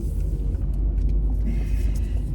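A car is driving along a road on a trip to a cemetery, with a steady low engine and tyre rumble that stays loud and even throughout and has no talk over it.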